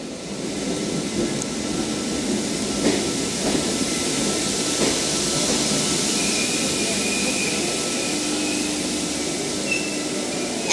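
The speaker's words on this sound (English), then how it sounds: "Here we have a set that I haven't seen in a long time, V11, with the transmitter short platform satellite dish thing, arriving into platform number 7 for Katoomba" A Sydney Trains V set, V11, arrives at a platform. The broad rumble of the train holds steady and fairly loud for about ten seconds, mixed with station ambience and a faint whine.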